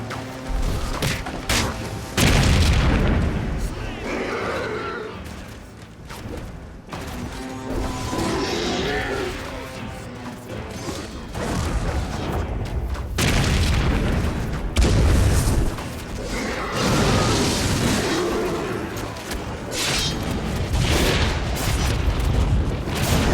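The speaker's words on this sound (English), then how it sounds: "Huge machine sprays fire upon the field!" Fire-spraying war machine blasting the battlefield in Lord of the Rings: Conquest, heavy roaring bursts and booming crashes in repeated loud waves amid ongoing battle din.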